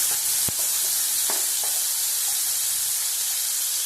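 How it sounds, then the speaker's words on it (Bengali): Onion paste hits hot oil, giving a continuous loud hissing sizzle with a sharp initial splash and a few faint clinks. "পেঁয়াজ বাটা দেবো"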